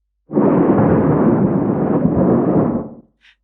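A deep, rumbling thunder roll with a swirling, flanged character, pitched very low, sustained for about three seconds before cutting off.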